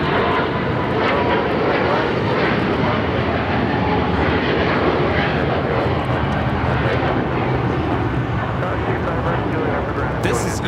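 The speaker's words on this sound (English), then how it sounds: "This is EVA Air Flight 5 taking off to Taipei on the 777-300ER." An EVA Air Boeing 777-300ER taking off from Los Angeles airport, a loud sustained roar of jet engines holding steady throughout, heard from the ground with people talking underneath.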